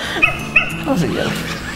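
A dog gives a couple of short, high yips amid people talking, followed by soft whimpering sounds.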